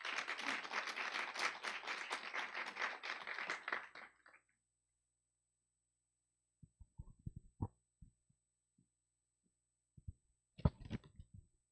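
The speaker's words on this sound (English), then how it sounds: "Ladies and gentlemen, Sophie deserves a bigger round of applause." A conference audience at an Islamic finance event gives a dense burst of applause lasting about four seconds, then it stops abruptly, leaving near-silence broken by a few scattered faint knocks and a short rustle.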